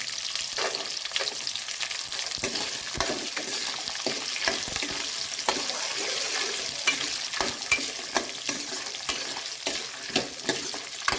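Small onions and garlic fry in a pan for a perandai thovaiyal, giving a steady close sizzle with sharp irregular stirring clicks and scrapes throughout, no voices.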